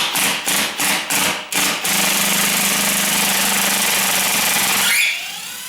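A ratcheting drill drives a 3-inch screw into a door jamb, first in five quick loud pulses, then a steady, close, grinding whir that runs for about three seconds before cutting off.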